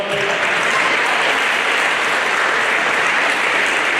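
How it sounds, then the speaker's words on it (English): Loud, continuous applause from a large crowd at a college men's basketball game, a steady wash of clapping that holds at the same level throughout. "so clap that up"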